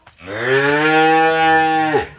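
A cow gives one long, loud, steady moo close by, trailing off at the end.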